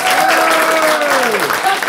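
A crowd applauds at a CD presentation, a steady wash of clapping that holds loud through the whole two seconds, with a sustained tone running beneath it.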